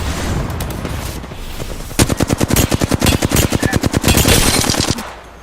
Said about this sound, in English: Trading shots.